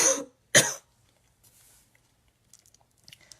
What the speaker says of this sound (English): Sorry, I just had to cough there.